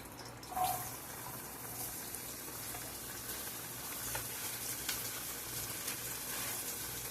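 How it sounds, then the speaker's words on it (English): Onions frying in a skillet make a steady, hissing sizzle, close by and fairly quiet, with a brief louder crackle near the start and no talking over it. "In this skillet, we're going to fry some onions."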